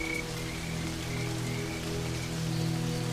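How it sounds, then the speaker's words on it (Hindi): Steady rain pattering across the open Serengeti grassland during a sudden downpour, a dense even hiss with faint low drones beneath, continuous and close throughout. "ये अचानक बारिश हो जाना सामान्य नहीं लग रहा।"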